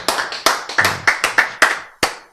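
Hands clap in a quick, uneven series of about ten sharp, close claps, with short pauses between bursts and no voices.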